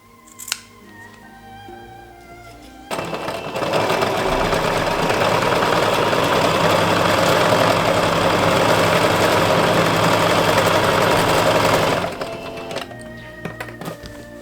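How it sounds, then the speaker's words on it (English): A sewing machine runs steadily for about nine seconds, loud and close, stitching a straight seam along the back piece of a kimono, with a few clicks and handling noises before and after. "first thing you need to do is sew the back piece, and this is simply a straight line."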